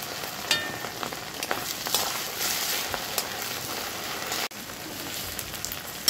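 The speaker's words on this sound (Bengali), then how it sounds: "তড়কা রান্নার জন্য আদা কুচি, পেঁয়াজ কুচি, রসুন কুচি, টমেটো দিয়ে দিচ্ছি তেলের মধ্যে।" Chopped ginger, onion, garlic and tomato fry in oil for a tarka, giving a steady, close crackling sizzle throughout with a few light utensil taps and one sharp momentary drop near the end.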